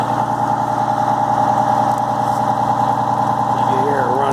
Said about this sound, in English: You can hear it run. It's just that it runs absolutely beautiful.